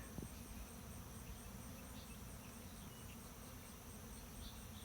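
Honey bees buzz steadily around a hive just moved to a new spot, a continuous, fairly quiet drone of many insects with no talking.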